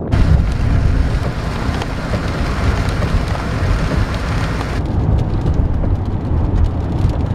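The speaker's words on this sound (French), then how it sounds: "il commence à pleuvoir et il y a un petit peu d'orage qu'on entend de loin" Heavy rain pours down outdoors with a dense, constant hiss and patter, while faint rumbles of far-off thunder roll low underneath; the downpour stays loud and steady the whole time.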